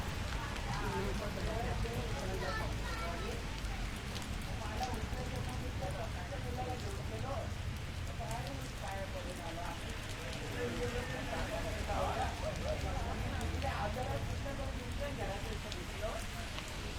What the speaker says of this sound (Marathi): आता अखेर हा पाऊस जो आहे